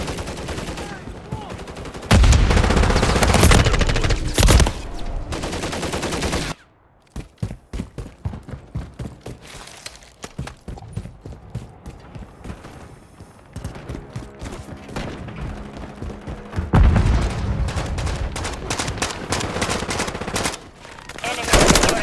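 Gunfire in Call of Duty Modern Warfare 3 during a 10v10 match on the Tokyo map. Loud bursts of automatic fire and single shots crack in quick rapid runs, with lulls in between and heavier volleys near the start and end, mixed with game voice callouts.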